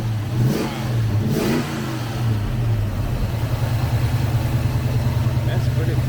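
At a car show, a car engine rumbles close by, revving up twice before settling into a steady, throaty idle, with people talking over it.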